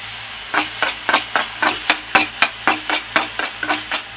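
A spatula stirs food frying in a little oil with a dash of soy sauce, scraping the pan in quick, regular strokes over a constant close-up sizzle.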